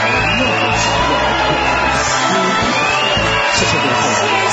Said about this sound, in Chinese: 我们要用掌声感谢刘谦老师给我们带来那么奇妙的功夫